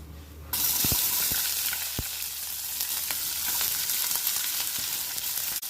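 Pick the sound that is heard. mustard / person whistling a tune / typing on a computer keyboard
mustard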